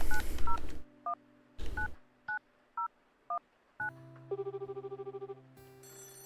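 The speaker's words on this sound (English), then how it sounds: "We left off last time about to make a phone call, the most important phone call of our life" A telephone number dialed in the video game Ichima-San, a series of short, separate keypad tones followed by a pulsing ringback tone and electronic phone sounds, loud and clear, with no talking.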